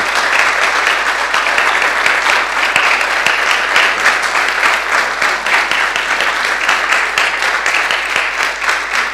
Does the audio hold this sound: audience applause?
yes